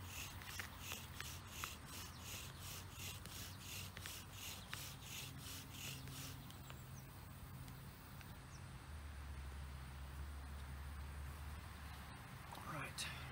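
A mullein spindle in a bow drill grinds in the notch of a wooden fireboard in rhythmic back-and-forth rubbing strokes. The rasping is faint and steady, with quiet outdoor background noise.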